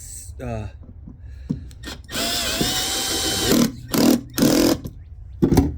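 A power drill with a 7/32-inch bit whirs in several bursts while installing pedestal seat bases in a Grizzly Tracker boat, one long run followed by short stop-start pulses, close and loud, with someone speaking in between.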